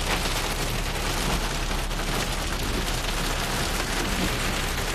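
Dense, constant pelting of hail drumming on a car roof during a thunderstorm near Stockton, California, a loud unbroken clatter with no voices.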